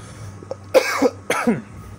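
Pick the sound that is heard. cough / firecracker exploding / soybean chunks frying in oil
cough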